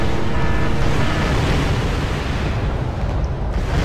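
Tank fire destroys a T-34 in the war strategy game Wargame European Escalation, heard as a continuous loud roaring rumble of explosion noise with no pauses.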